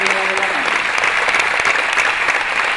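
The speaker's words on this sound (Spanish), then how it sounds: "Este es el último aplauso que te brinda la ciudad de Ávila por esta noche." Audience applause from a crowd in Ávila at a tribute event for an ALS fight, steady dense clapping filling the whole moment, loud and close with no pauses.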